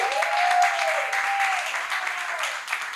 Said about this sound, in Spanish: Yo quiero que la recibamos con un aplauso